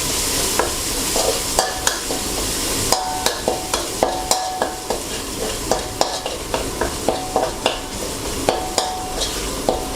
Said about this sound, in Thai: ผมก็จะเจียวกระเทียม